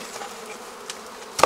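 Honeybees robbing at the entrances of beehives, a soft continuous buzzing hum from many bees close by, with a sharper burst of nearer buzzing at the very end.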